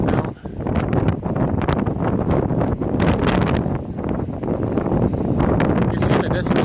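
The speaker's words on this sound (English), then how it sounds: "It's going to be more windy." Strong wind gusts at the top of Saint Joseph Oratory, roaring and buffeting the microphone with a rough, continuous rumble. A person talks under the wind.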